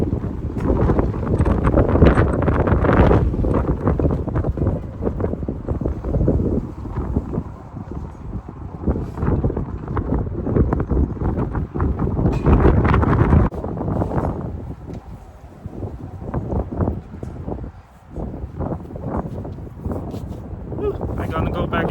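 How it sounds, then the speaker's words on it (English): Strong outdoor wind buffets the microphone on a windy day, a loud continuous rumbling roar with gusts that rise and ease, and a voice can be heard speaking briefly among the noise. "Alright, so windy."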